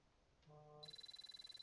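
A phone rings in a quiet room: a brief mid-pitched buzz, then a bright, steady electronic ringtone with fast repeating pulses that carries on to the end, fairly loud and close with no talk over it.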